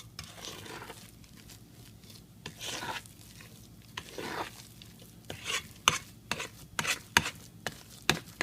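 A spoon stirs and smooths very thick peanut butter pie filling in a bowl, giving soft scraping strokes that grow into sharper, louder clacks and taps toward the end, with no talking.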